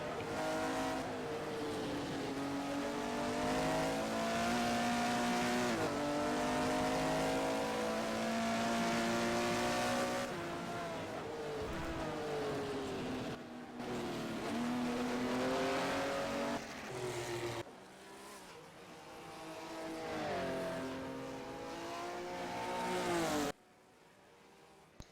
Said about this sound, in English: Couple of them going out, practicing some starts now.